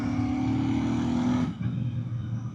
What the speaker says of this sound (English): this 650 just sounds absolutely beautiful